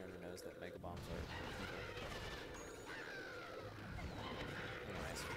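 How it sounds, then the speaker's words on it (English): Explosions from a bomb attack in the Skylanders Spyro's Adventure video game sound as dense, booming bursts under a constant layer of game noise, while a person keeps talking over the action. "I threw the bomb and hit both walls at once, which is a nice optimization to make."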